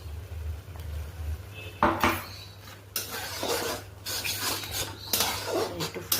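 A spoon scrapes and clinks against a pot of cooked drumstick flowers and vegetables as mustard paste is stirred in, continuous close scraping with sharper metallic knocks over a steady low stove hum, no talking.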